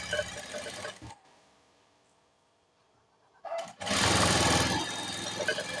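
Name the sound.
sewing machine stitching piping thread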